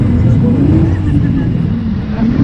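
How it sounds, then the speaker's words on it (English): A damaged BMW race car, its front end badly wrecked, keeps driving under rear-wheel power, giving a steady, loud, low engine drone that holds throughout while a voice talks over it. "The engine is still pushing the car around."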